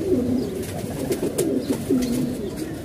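A large female pigeon cooing close by, a few soft, rounded repeated coos with faint background rustle.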